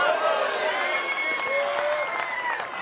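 A college softball crowd at a Texas versus Florida game applauds steadily after an off-speed pitch, a broad continuous clapping wash with scattered cheers, fairly loud and sustained for a few seconds.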